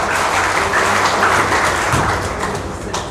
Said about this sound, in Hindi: इसके लिए आप एक बार तालियों स्वागत करेंगे।